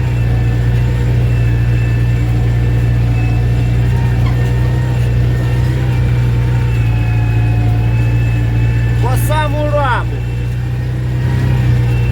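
An MTZ tractor engine runs steadily, a loud continuous low rumble and drone heard close up that lasts the whole stretch, with a brief rising whine partway through and a voice talking over it.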